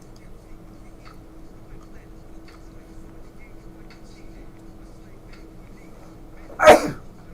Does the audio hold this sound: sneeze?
yes